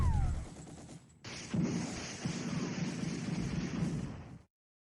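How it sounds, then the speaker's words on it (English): Japanese bombardment in the War Plan Orange strategy game, a dense rumble of explosions and gunfire that cuts out briefly, then resumes as a steady barrage before stopping abruptly. "Okay, Japanese bombarding us."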